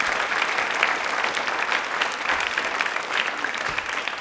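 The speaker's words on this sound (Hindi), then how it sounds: "तालियां एक बार इनके लिए जोरदार बजा दीजिए प्लीज" An audience applauding at a quiz event, loud sustained clapping from many hands filling the whole stretch without a break.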